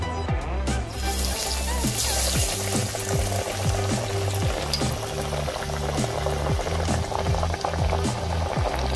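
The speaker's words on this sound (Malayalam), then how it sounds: "ഇങ്ങനെ ഓരോ ഉരുളകളും നമുക്ക് ഇതിലേക്ക് ഇട്ട് കൊടുത്ത് ചുട്ടെടുക്കാം" Kerala-style parippu vada, lentil dal balls, frying in hot oil over medium flame: a loud, steady crackling sizzle with bubbling texture, close up and continuous, with no talking.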